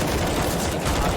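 Rifle gunfire from a Counter-Strike esports match, a dense burst of rapid shots filling the short moment, loud and continuous with no clear talk.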